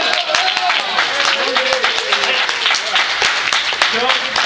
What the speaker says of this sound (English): let's give a nice round of applause for Joseph Keller